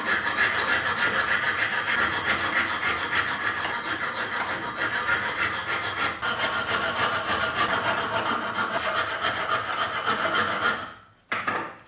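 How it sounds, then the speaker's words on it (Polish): A hand file rasps steadily back and forth along a wooden hammer handle, shaping it to press-fit the hammer head's eye; continuous close scraping strokes that stop briefly near the end. "Przy pomocy pilnika postaram się opiłować tą część trzonka, żeby on nam pasował do otworu"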